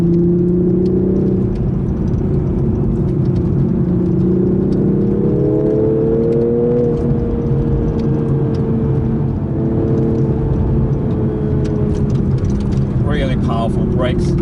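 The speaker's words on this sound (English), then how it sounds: "Just put the transmission into manual mode, and I'm just using the steering wheel paddles to shift." Toyota GR Supra GTS sports car engine accelerating hard through manual paddle-shifted gears, a loud, sustained rising drone with pitch dropping at each shift, heard from inside the cabin with a brief burst of other noise near the end.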